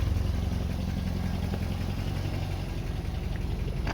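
Toyota 22RE four-cylinder engine in a truck idling steadily, a continuous low, even rumble close by with no talking over it.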